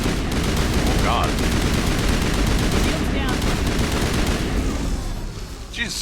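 Rapid gunfire in the video game Mass Effect rattles in dense, sustained bursts, loud and continuous, with brief electronic effects and faint voice snippets mixed in.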